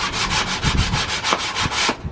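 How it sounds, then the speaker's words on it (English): Rhythmic back-and-forth sanding on a wooden van cladding panel, steady rasping strokes repeating about every quarter second, close and fairly loud with no talking. "Obviously it needs a good sand."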